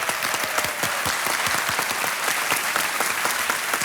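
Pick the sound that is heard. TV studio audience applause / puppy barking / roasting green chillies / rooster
TV studio audience applause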